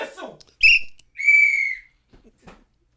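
A whistle is blown in two blasts: a short sharp toot, then a longer, steady shrill tone, close and loud, with brief talk-like sounds before and after.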